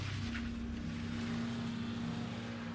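A Toyota Prius engine runs as a loud, steady, close drone with a constant low hum and no other sounds.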